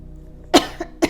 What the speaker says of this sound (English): as I'm coughing, my throat chakra